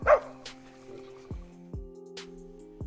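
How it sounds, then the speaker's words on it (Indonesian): A dog barks in short, spaced bursts, several times over a steady low tonal drone, fairly quiet and at a middle distance, with no talking. "anjing mereka terlihat menggonggong sepanjang malam"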